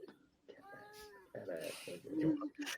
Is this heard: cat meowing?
yes